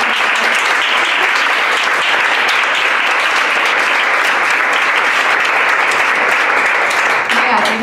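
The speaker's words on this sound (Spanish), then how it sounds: "primero un aplauso." An audience at a vacuum science demonstration gives loud, sustained applause that fills the whole clip, with voices mixed in beneath the clapping.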